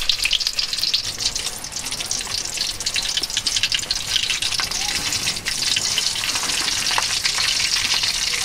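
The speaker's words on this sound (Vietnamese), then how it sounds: "Cá này chiên mau giòn, mau vàng dữ nha." Dried fish frying in a pan for a riverside countryside meal, heard as a loud, continuous hissing sizzle with crackling spatter, steady throughout with a brief dip near the middle.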